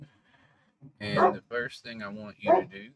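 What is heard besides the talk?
dog barking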